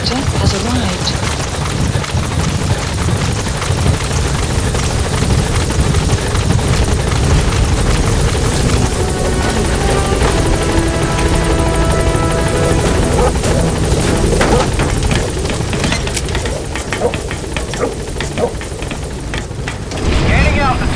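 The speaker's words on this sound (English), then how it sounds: "Support helicopter has arrived" Support helicopter in Metal Gear Solid 5 roaring loud and steady with dense rotor thrum throughout, radio voices speaking over it.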